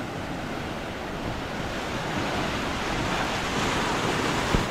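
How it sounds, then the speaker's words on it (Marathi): Sea waves roll in and break on Aare Ware Beach in Ratnagiri at dusk, a continuous loud wash of surf mixed with wind buffeting the microphone, with no voices heard. "ज्या लाटा येत आहेत ना,"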